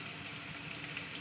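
Flat beans fry in hot oil with softened onions, a dense, steady sizzle lasting just over a second with no voices.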